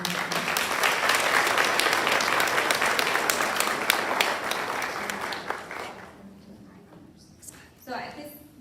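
An audience at a high school senior awards ceremony applauds graduating seniors, with a loud, full round of clapping that fades out after about six seconds, followed by a voice speaking.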